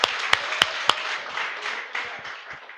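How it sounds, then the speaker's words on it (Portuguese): A church congregation applauds during a sermon: a few sharp, separate claps open it, then a soft, diffuse patter of hands continues at moderate distance, with no talking. "Uma salva de palmas."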